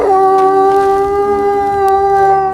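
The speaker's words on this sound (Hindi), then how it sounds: "दूर कहीं से कुत्ते के रोने की आवाज आती है" Dog howling in the distance, a single long mournful tone that holds steady and slowly fades, alone with no other sounds.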